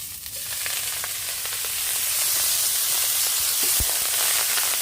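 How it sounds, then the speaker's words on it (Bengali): Chopped leafy greens fry in a hot wok with a loud, continuous sizzle that swells slightly, with occasional stirring clicks and scrapes and no speech. "শাক কুচিয়ে রেখেছিলাম ওটা আমি ভাজি করার জন্য কড়াইতে দিয়ে দিচ্ছি"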